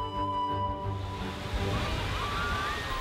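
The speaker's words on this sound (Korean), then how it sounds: "푸르른 서해의 물결이 만들어내는 하얀 파도" White-capped waves of the West Sea break and wash on a sandy beach at Seocheon, a continuous close surf roar heard alone with a faint steady tone running underneath.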